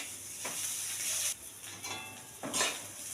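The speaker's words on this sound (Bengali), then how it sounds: "আদা বাটা, কাঁচা লঙ্কা বাটা দিয়ে ভালো করে নেড়ে নেব।" Fish being stirred in a pan with ginger paste and green chilli paste, a steady close sizzle broken by a few scraping stirs.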